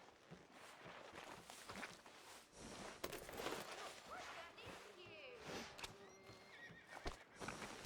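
A horse in Red Dead Redemption 2 whinnies while its hooves clip-clop at a walk, heard faintly beneath speech.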